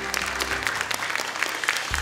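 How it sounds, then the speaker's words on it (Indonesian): Applause for the jury panel in the studio of the Indonesian Quran memorization show Hafiz Indonesia, a dense steady clatter of many hands filling the room, with a faint voice underneath. "tepuk tangan untuk Dewan Juri kita"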